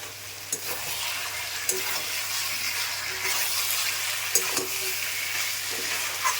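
Chicken sizzling in spiced oil in a home kitchen pan with fried potatoes being stirred in, a steady frying hiss with occasional scraping clinks of a spatula, close and continuous.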